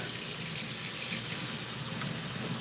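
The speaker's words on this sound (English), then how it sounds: "Just rinse out with hot water." Hot water runs from a kitchen tap while a pan is rinsed, a steady, loud rushing stream with no break and no voices.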